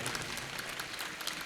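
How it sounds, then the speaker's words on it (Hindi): A large audience claps loudly and steadily at a religious birthday celebration in Jaipur, a dense, continuous burst of applause with no voices on top. "लोग ताली बजा दें जोरदार तरीके से।"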